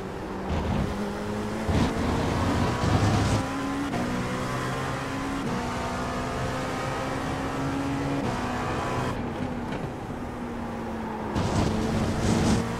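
LMP2 prototype race cars in an iRacing simulation of the 24 hours of Le Mans, their engines howling through upshifts and sustained high revs, with other cars passing close by.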